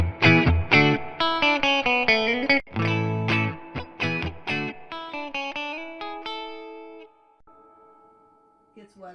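An electric guitar is played through a Fender Tone Master Deluxe Reverb amp with the reverb turned up, giving a run of bright picked notes and chords whose tails wash out and linger after the playing stops.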